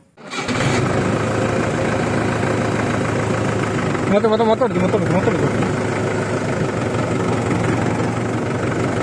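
A Mahindra 575 DI tractor engine fires up and settles into a steady, loud, close diesel idle, with a brief rougher patch midway. Someone talks over it.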